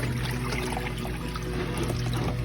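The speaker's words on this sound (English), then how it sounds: "I'm gonna get ready to pour off." Wash water pouring off turnip greens from a pot after a third rinse, a steady continuous splashing trickle running throughout at moderate volume with no talk.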